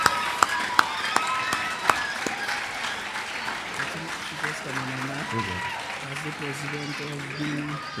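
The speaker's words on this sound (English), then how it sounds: "who are now privates within the St. Lucia Cadet Corps. A round of applause." Audience applause at a St. Lucia Cadet Corps enrollment and promotion ceremony, steady clapping filling the room with a few sharp nearby claps at the start, while a voice talks over the later part.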